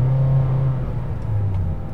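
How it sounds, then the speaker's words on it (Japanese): A new Honda Freed engine drones loudly from inside the cabin under heavy throttle, a steady low moan that dips slightly in pitch midway, with no speech. "アクセルちょっと多めに開いちゃったりすると、今みたいな感じで かなりこううなってるような感じが出て"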